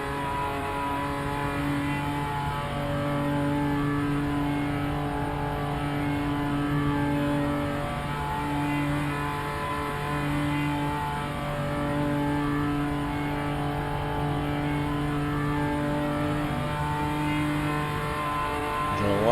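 Race car engine in RaceRoom, damaged but still running, holding a steady mid-pitched drone with layered harmonic tones that shift slightly as it runs through the final corners, continuous and close with no talk over it.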